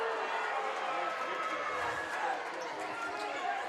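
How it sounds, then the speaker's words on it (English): A high school basketball crowd in a gym at Star Valley, Rock Springs against Star Valley, roars in a dense, sustained wash of noise demanding a technical foul, heard from a distance. "Now you're hearing possibly Star Valley's crowd wanting a technical foul on Rock Springs"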